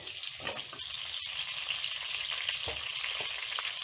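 Onion and tomato frying in hot oil for a fish curry, giving a steady close sizzle and crackle throughout with a few brief stirring clatters, no voices.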